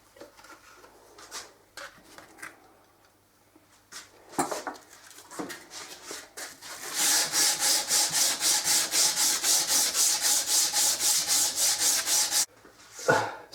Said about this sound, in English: So I finished sanding the fretboard, and I went through different grades of paper